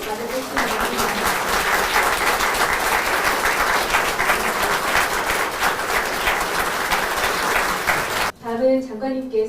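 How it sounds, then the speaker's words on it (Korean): Audience at the Korean justice minister's inauguration applauding, a sustained, dense round of clapping from a crowd that cuts off sharply near the end, followed briefly by speech. "자리를 큰 박수로 맞아주시기 바랍니다"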